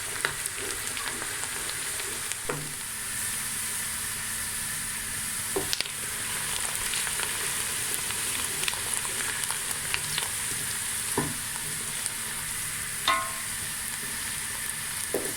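Steady sizzling of chicken curry ingredients frying in a pan until light golden, a continuous crackling hiss with occasional louder pops and stirring scrapes, close by.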